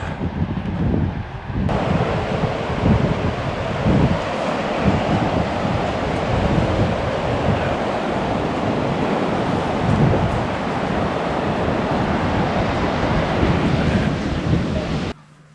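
Sea waves roll onto the shore at Denmark's northernmost point, a loud continuous surf roar mixed with heavy wind buffeting, steady for the whole stretch before cutting off.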